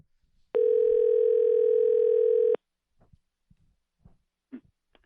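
A steady telephone dial tone sounds for about two seconds as a call is placed, loud and alone, followed by a few faint clicks and soft bumps.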